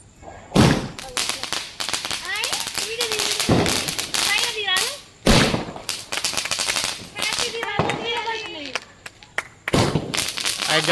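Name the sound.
Diwali firecrackers shooting up like rockets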